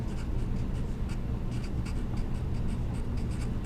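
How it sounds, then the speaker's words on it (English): Pen writing math notes by hand on paper, a close, continuous scratching with quick rhythmic strokes over a steady low hum. "you might want to write the little rule here."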